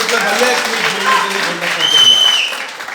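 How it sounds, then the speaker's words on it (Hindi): Brief, loud applause from an audience at a corporate gathering, clapping mixed with a speaker's voice and crowd noise, lasting a few seconds. "एक बार जोरदार तालियां स्मार्ट वैल्यू के लिए"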